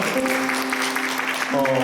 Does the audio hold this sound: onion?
no